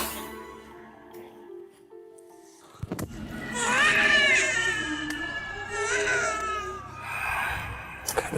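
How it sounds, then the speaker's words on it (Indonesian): A baby crying in a quiet room at night, starting after a few seconds of near silence, with rising and falling wails that grow loud and continue in uneven bursts. Faint background noise sits underneath. "Suara bayi nangis."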